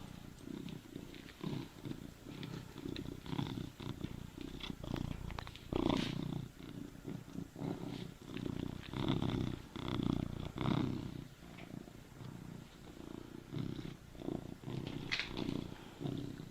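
A cat purrs right up against the microphone in a steady, rumbling rhythm for the whole stretch, with breaths cycling in and out and occasional soft snorts.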